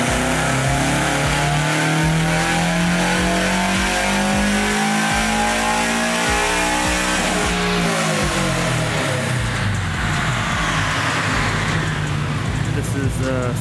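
A Toyota GR86 on E85 fuel with an EcuTek tune and stock file roars through a dyno pull, the engine climbing steadily in pitch as it revs hard and loud, continuous throughout with a rising whine near the end.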